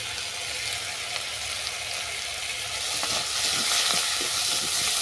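Turmeric, chili powder, garam masala and salt stir-fry in oil for a crab tel jhal, a dense continuous sizzle with scraping spatula strokes growing slightly louder toward the end.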